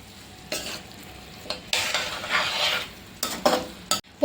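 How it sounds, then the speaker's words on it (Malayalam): A spoon scrapes and stirs chilli pork masala in a hot pan, the frying sizzle rising in loud bursts of several strokes, close up with no voices. "ഇതെല്ലാം കൂടി നമുക്ക് നന്നായിട്ടൊന്ന് മിക്സ് ചെയ്തെടുക്കാം"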